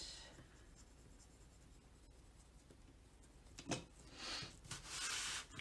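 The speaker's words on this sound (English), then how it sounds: "I'm going to draw my corners to cut" Pen or pencil marking corner lines on paper ahead of cutting for a handmade notebook cover, faint scratchy strokes that grow louder in short bursts toward the end.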